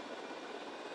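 A helicopter drones in GTA Vice City, a steady broadband whooshing engine and rotor roar with no distinct beats, continuous and fairly faint over the brief moment.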